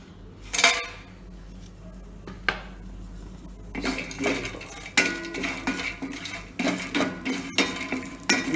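Whole cinnamon and marathi moggu roasting in a pan over a medium-low flame, with sharp clinks and scrapes of a utensil against the metal pan, sparse at first, then a busier run of stirring knocks, close and fairly loud.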